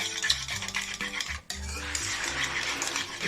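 Eggs and granulated sugar being whisked for a palm cake batter, a rapid continuous clatter of a whisk against a bowl, close up, with a brief pause midway before beating resumes.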